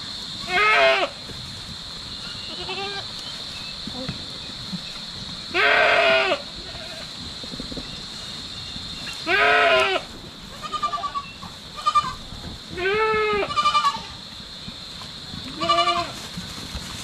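Goats on a provincial farm bleat loudly in repeated wavering calls, several animals answering one another every couple of seconds over a quiet outdoor background with no talk.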